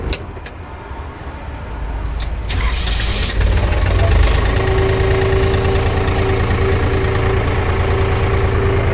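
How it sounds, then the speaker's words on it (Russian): A Hinomoto N329 Japanese tractor engine turns over and settles into a steady, loud idle, its low rumble and rhythmic chug continuing close by. "вот так спокойненько работает трактор"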